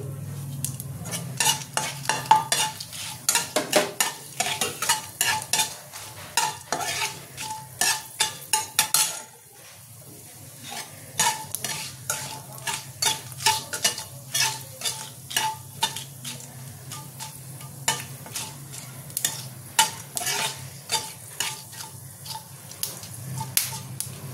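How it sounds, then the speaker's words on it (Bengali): Whole mustard seeds and fenugreek sizzling in hot oil while being stirred, a continuous close crackle and spatter with steady scraping of a spoon against the pan and one brief pause midway. "এবার আমি গোটা সর্ষেটা আর মেথিটা ফোড়ন দেব।"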